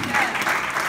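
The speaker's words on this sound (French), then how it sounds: "on peut applaudir" An audience claps at a church gathering, a short dense burst of applause with a voice speaking over it.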